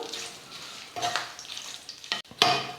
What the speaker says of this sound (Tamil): இப்போ எண்ணெயில் போட்டு நான் வந்து கருவேப்பிலையும் ஃப்ரை பண்ணி எடுத்துடுறேன்